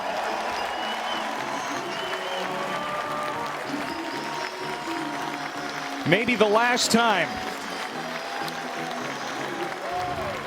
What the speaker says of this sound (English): At Hawkins Field, the crowd very appreciative of Kumer Rocker.